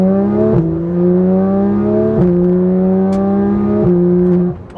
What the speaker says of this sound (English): Just hearing the car just rumble, it's just it's such an intimidating noise, the way that this car just sounds.